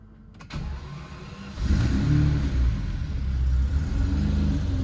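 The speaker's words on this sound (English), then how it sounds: "I don't want to rev it too much because it's cold, but you can definitely hear a little more." Maybach 62 V12 with its resonator deleted, revved gently while cold: a quiet low idle rumble, then a short click and a fuller, louder engine swell partway through that holds as a deep, close drone.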